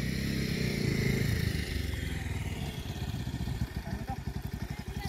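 A motorcycle eases slowly through a turn, its engine a close, steady rumble that settles into a rapid, even putter like a low idle toward the end.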